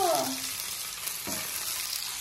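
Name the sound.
fish frying and sizzling in a pan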